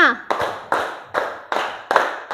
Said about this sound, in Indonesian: Coba tepuk 5.